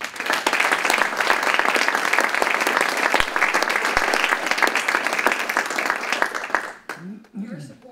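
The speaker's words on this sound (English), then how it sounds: "Could everyone please join me in a round of applause thanking these donors." An audience at a merit awards and scholarship donor celebration gives a sustained, loud round of applause with dense clapping that fades out near the end, followed by a brief voice.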